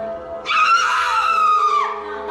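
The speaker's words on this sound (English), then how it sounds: "she screams as if the object burns her to the core" A woman screams in a long, loud, high-pitched wail of apparent pain, lasting over a second before trailing off, with no talk over it.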